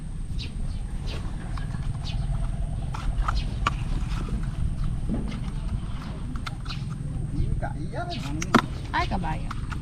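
Horse hooves clip-clopping outdoors near a farm field, irregular hoof knocks mixed into steady outdoor noise with occasional bird chirps, and people talking over it.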